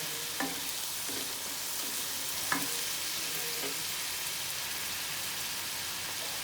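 Whole spices for a tempering fry steadily in hot oil for an arbi (taro root) curry cooked with lassi, giving a continuous close sizzle with a few soft clinks of a spoon and no talking.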